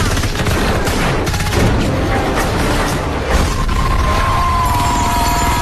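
Rapid bursts of gunfire crackle continuously, dense volleys mixed with mechanical clatter and impacts, loud and close.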